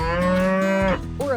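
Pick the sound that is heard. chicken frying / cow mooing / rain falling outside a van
cow mooing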